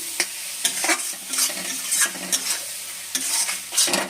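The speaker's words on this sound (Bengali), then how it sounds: "এই কাশ্মীর লঙ্কার গুঁড়োটা দিচ্ছি আমি এখানে" Kashmiri chilli powder fries in a hot pan as a spatula stirs it in rapid, repeated scraping strokes over a continuous close sizzle, with no voices.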